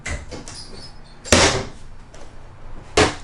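Cupboard doors in a 2023 Crusader 382MBH RV kitchen opening and closing, with two sharp, loud closing knocks about a second and a half apart amid quieter handling noises.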